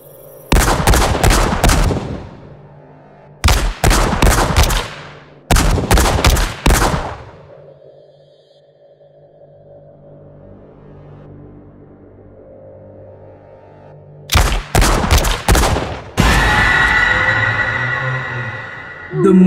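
Gunfire erupts in a shootout among gangsters inside a house, heard as several loud, rapid volleys of shots close by, separated by a long, quieter stretch of low droning tone before more bursts return.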